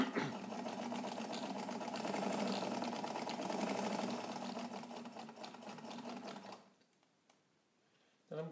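A Necchi BU Nova sewing machine runs steadily in a fast, dense mechanical whir while stitching and back tacking on garment weight leather, then stops abruptly, leaving near silence with a faint click at the end.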